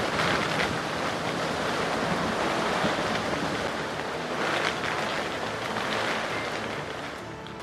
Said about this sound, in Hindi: तेज हवाओं के साथ बारिश ने उधमपुर में भी दस्तक दी